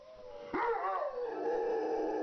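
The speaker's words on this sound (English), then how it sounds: "Ooh, Rottweiler. I like Rottweilers." A Rottweiler lets out a drawn-out howl that starts with a sharp yip and then wavers up and down. It is close and fairly loud, with no talking.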